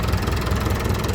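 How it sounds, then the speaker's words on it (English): A David Brown 1490 tractor's turbocharged engine idles after a road run to cool the turbo, a loud, steady low rumble with a regular knocking pulse, close by and with no talk. "We have to let it run a bit just to cool turbo down."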